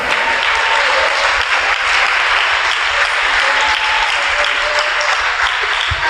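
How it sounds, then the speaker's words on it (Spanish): A church congregation gives loud, sustained applause as an offering to the Lord during a sermon, a dense, continuous roar of clapping that stays at full strength throughout. "Denle esa ofrenda de palmas al Señor"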